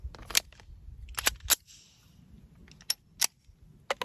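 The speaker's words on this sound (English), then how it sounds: "let's put a few rounds to make sure it functions" A rifle fitted with a Tyrant Designs trigger fires several sharp, spaced shots, loud and close, with quiet gaps between reports.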